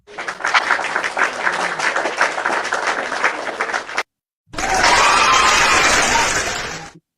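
A crowd claps and cheers for about four seconds, breaks off abruptly, then a louder, denser burst of applause with cheering resumes and holds to the end.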